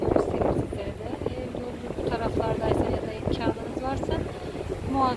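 Ferry deck ride with steady wind rumble and a low engine drone, with voices talking throughout over the continuous noise.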